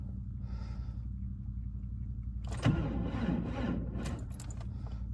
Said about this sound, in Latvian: Motors iesās.